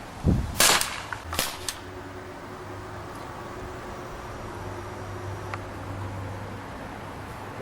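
A Crosman T4 .177 air pistol fires a few sharp, close cracks near the start, followed by quieter mechanical clicks over a faint background hiss.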